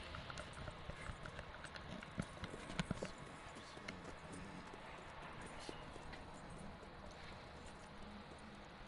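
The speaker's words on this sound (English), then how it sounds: "You got yourself a deal. And a fine new horse." Horse hooves clip-clop steadily in Red Dead Redemption 2, a continuous moderately loud walking rhythm with a few sharper hits near the start, set against constant outdoor game ambience and no talk.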